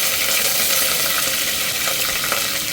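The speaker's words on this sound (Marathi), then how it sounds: "शेंगदाणे व्यवस्थित परतायचे आहे, गोल्डन ब्राऊन होऊ द्यायचे आहे" Peanuts and curry leaves frying in hot oil for a khichdi tempering, a loud, steady close-up sizzle with fine crackling and occasional spatters, no voices.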